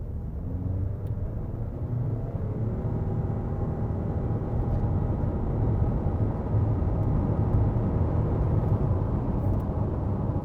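A 2022 Mitsubishi Eclipse Cross PHEV accelerates from 0 to 100 km/h, giving a steady low rumble and road noise that grows slightly louder over about ten seconds, with no one speaking.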